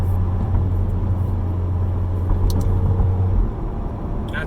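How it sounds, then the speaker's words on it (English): Toyota Mark IV Supra passing by, a steady low engine rumble that holds for a few seconds and then drops off as the car moves away. "Oh, Mark IV Supra!"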